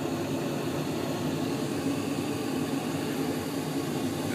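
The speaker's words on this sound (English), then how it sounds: "That's the exhaust blower." A Bryant gas furnace exhaust blower runs steadily just after ignition, a continuous broadband whoosh with a low motor hum, close and unchanging throughout with no talking.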